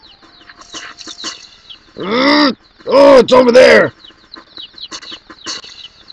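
Clucking chickens in The Legend of Zelda: Majora's Mask, heard as a few loud bursts of game audio in the middle, with people talking before and after.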